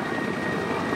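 A helicopter airlifting an HVAC unit makes a continuous, even rotor and engine drone at moderate distance, with a steady whine over a broad rushing noise and no voices.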